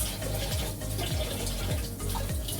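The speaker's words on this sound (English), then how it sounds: "And then I will wash it with warm water very throughout." Tap water runs continuously into a sink while a leek is rinsed under warm water, a steady close splashing stream with faint rhythmic low thumps beneath it.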